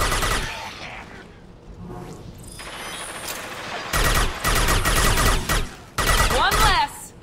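Sci-fi weapon fire in the action RPG Mass Effect 2, bursts of rapid shots with mechanical clacks and whooshing effects, loud and close in short separated volleys.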